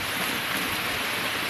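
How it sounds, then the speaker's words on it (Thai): Heavy storm rain from Typhoon Kajiki in Laos, a steady dense hiss of downpour with no breaks, moderate in level and heard alone. "ฝนกำลังตกหนักอยู่ที่ประเทศลาวมีพายุเขาเนาะ"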